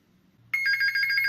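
An extension phone on an Intelbras CP 352 PBX rings, a sudden loud electronic trill that starts after a brief low hum and continues steadily to the end.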